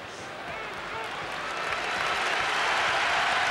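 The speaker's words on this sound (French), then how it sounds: "Et gros applaudissements pour la sortie de Zidane" A stadium crowd at the 2004 France–Brazil FIFA centenary match applauds a substitution: dense, continuous clapping and crowd noise that swells steadily louder, with no clear voices standing out.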